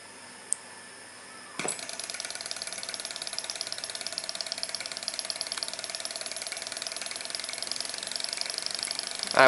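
A small Stirling engine starts up after a faint click and then runs steadily, producing a fast, even mechanical ticking and whirring that holds for the rest of the clip.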